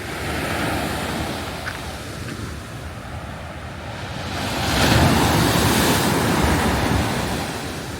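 Sea waves break steadily on the shore near a parked camper van on the Amalfi Coast. The surf is close and continuous, swelling louder midway, with wind buffeting the microphone and no talk.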